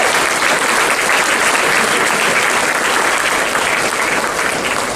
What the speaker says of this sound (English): give yourselves a nice round of applause for coming out on a Tuesday night